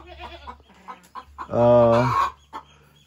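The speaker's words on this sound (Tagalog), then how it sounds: "Marami pala yung tandang dito, ano?" A rooster crows once, loud and close, a drawn-out harmonic call amid a few brief clucks and faint background voices.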